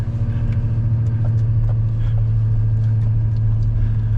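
Steady low rumble of a Chevy truck engine driving in 4-wheel drive, heard from inside, constant and moderately loud with faint rattles on top.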